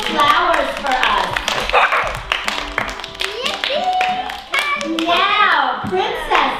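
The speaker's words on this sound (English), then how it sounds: "give our handsome Prince Lance a big round of applause" Children at a sixth birthday party clap for a boy, scattered small hands patting quickly and unevenly while young voices chatter and call out over the applause throughout.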